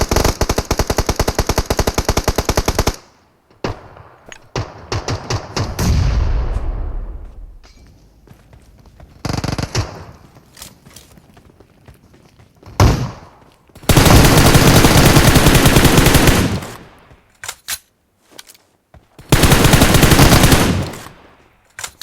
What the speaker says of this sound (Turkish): Türkleri vuruyorlar şu an.